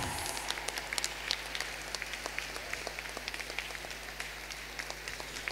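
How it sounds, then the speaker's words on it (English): Audience at a junior school annual day applauding to welcome dignitaries, scattered, fairly faint claps against a low hum of the hall, a thin and uneven patter rather than a thundering burst. "let's welcome the dignitaries with a thundering applause."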